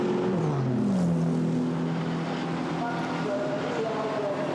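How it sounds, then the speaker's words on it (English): GT4 race cars roar around the Monza circuit, running down toward the Variante Ascari, with loud, steady engine noise and rising, shifting pitch sweeps as several cars pass close by. "the cars run down towards the Variante Ascari once more"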